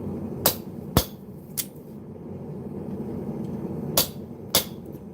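A punch hammered through hot steel on an anvil rings out in five sharp metallic strikes, two early and two late with a softer one between, over a steady forge roar.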